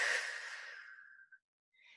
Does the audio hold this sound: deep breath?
yes